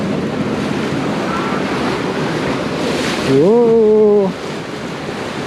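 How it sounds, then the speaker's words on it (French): Waves crash at a holiday park in Germany, a continuous loud rushing roar mixed with wind buffeting the microphone, broken by a brief spoken exclamation. "Oh, il y a des sacrées vagues là."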